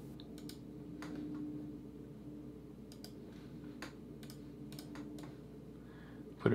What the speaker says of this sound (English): I'm gonna type in again